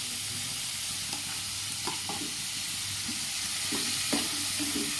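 Green chillies and onions frying together for potato kurma, a dense, even sizzle close up with occasional light scrapes of a spatula in the pan.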